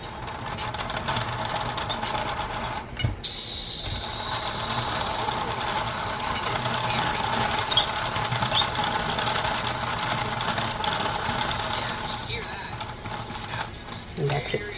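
A Prym MIDI knitting machine knits rows, its carriage running steadily with a continuous mechanical clatter and ratcheting for several seconds, close and fairly loud, with a brief pause partway through.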